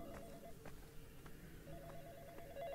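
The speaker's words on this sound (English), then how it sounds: "The phone is ringing." A telephone rings faintly in a horror video game, Sinister, in a repeating electronic trill of short bursts under a murky background hum.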